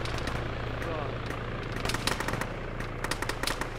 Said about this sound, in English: Of course, they're still shooting.